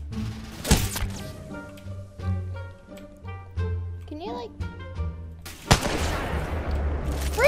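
Gunfire strikes a player in the battle royale game Apex Legends, a quick run of sharp thuds and cracks scattered over several seconds, with a player talking and brief tonal game effects mixed in.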